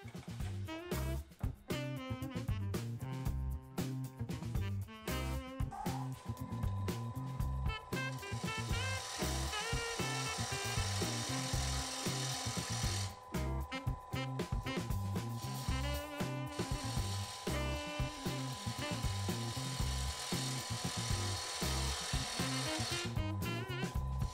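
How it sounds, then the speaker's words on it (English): A wood lathe trues up a walnut blank hot-glued to a glue block, giving a steady, loud rough scraping and cutting noise with a rapid rhythmic chatter that runs without a break and with no talking. "I'm truing up this blank"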